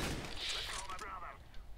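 A short burst of gunfire in Counter-Strike: Global Offensive, rapid shots blurring into a dense rattle over a low rumble, with voices close by.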